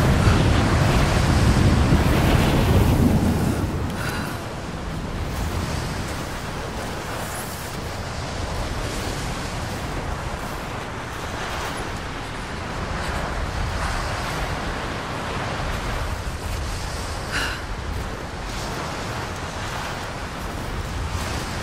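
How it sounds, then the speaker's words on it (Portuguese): Strong mountain wind roaring in Rise of the Tomb Raider, a loud sustained gusting rush, heaviest at first and then settling into a steady blustery wash. "Esse vento é absurdo."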